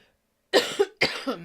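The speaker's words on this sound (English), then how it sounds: "Deal with the coughing." Two close, harsh coughs, each with a short follow-up bark, separated by a brief pause after a moment of silence.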